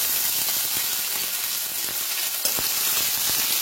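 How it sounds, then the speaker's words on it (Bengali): Ginger paste fries in a pan in a cooking dal, giving a loud, close, continuous sizzle with occasional light stirring taps. "আদা বাটাটা দিয়ে কিছুক্ষণ ভেজে নেব, যতক্ষণ না কাঁচা গন্ধটা চলে যায়"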